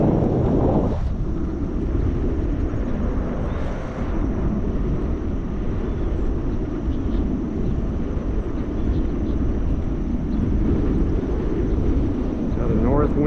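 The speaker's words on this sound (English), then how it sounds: "Got a north wind this morning" Steady north wind buffeting a GoPro camera while cycling, a constant loud rumbling roar throughout with faint talk underneath.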